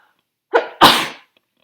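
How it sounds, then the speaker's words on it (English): A single close, loud sneeze with a short sharp intake followed by the burst, alone in a quiet room. "I'm gonna sneeze."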